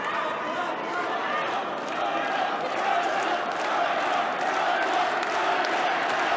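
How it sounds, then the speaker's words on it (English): Stadium crowd at a bronze-medal judo match, a steady loud roar of cheering and shouting that carries on throughout without a break. "This crowd are fired up."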